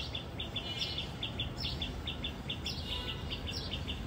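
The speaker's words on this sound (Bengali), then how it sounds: "টুনি পাখিটা ডেকে ডেকে যাচ্ছে" A tailorbird calls in a garden with quick repeated high chirps in a steady rhythm, moderately distant over a constant background hiss.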